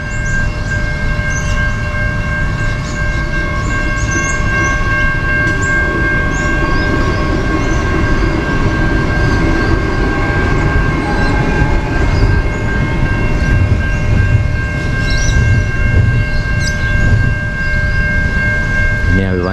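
An electric passenger train on the line between Gawler and Adelaide rumbles past steadily and loudly, a sustained roar with rail clatter and faint horn-like tones throughout.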